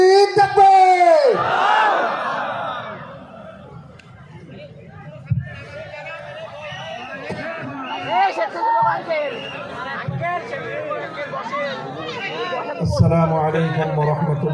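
A large crowd at an outdoor Quran tafsir mahfil in Jashore roars together in loud chanted shouts, swelling into massed yelling and babble, with a raised voice leading near the start.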